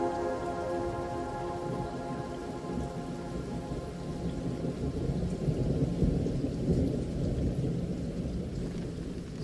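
Steady heavy rain drumming on surfaces with low rolling thunder rumbling throughout, loud and close, on a border-area stop during a motorcycle highway ride.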